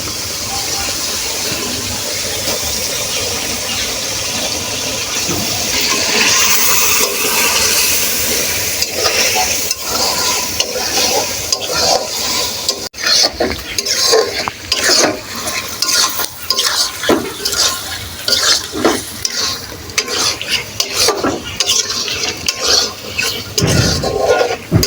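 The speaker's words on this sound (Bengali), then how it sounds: "এবার আমি মাংসটাকে দিয়ে দেব।" Chicken goes into a pot of cooked-down spice masala for chicken biryani and is stirred vigorously. A soft sizzle leads into loud, repeated scraping and clattering of a spoon against the pot, with irregular bursts of stirring and wet spattering.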